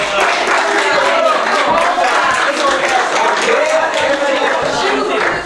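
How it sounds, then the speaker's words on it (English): Steady, loud clapping from an audience fills the whole stretch, with voices and cheers mixed into the applause. "give a round of applause"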